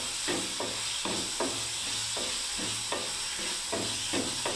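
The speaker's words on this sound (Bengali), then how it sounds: "এবারে একটু আমি জল দিয়ে দিচ্ছি বন্ধুরা" Water goes into a simmering potol curry in a pan, bringing a constant bubbling hiss and sizzle, with a regular rhythm of spoon scrapes as the curry is stirred, close and moderately loud.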